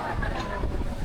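Steady wind rushes outdoors, blowing continuously and fairly loud throughout, with faint background noise mixed in.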